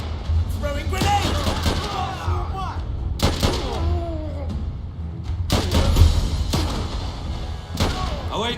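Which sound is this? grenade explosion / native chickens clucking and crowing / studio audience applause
grenade explosion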